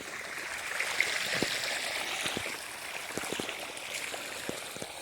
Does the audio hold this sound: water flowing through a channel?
yes